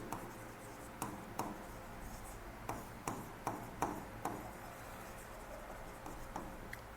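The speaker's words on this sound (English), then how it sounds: "so I will write 2 things here" Faint pen or marker strokes and taps as notes are written during a law lecture on constitutional immunity, a quiet scratching with irregular little clicks and no voice over them.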